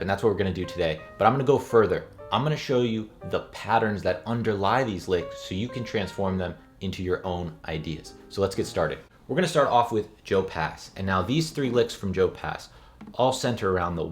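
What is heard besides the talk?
No everyday noises stand out.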